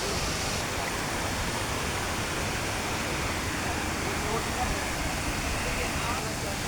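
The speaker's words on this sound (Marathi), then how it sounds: "हा आहे धबधबा मित्रांनो एकदम रिस्की आहे पण खतरनाक असा आहे" A steady, roaring waterfall at Vangani fills the air with dense, unbroken rushing noise from start to finish.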